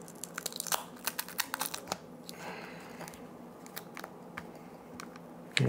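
Ear cushions are pried off Beats Studio Pro headphones in close-up: a quick run of sharp plastic clicks and snaps, then a softer tearing scrape as the padding loosens, followed by scattered clicks.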